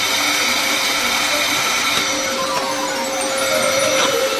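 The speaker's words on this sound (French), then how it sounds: "Un sèche-cheveux ordinaire nous aidera." An ordinary hair dryer runs continuously with a steady, loud whirring blow and a high motor whine, holding constant throughout.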